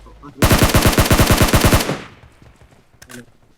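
Automatic gunfire sprays in a rapid burst of about a dozen loud, evenly spaced shots in PUBG Mobile, then trails off into quiet with a brief faint sound near the end.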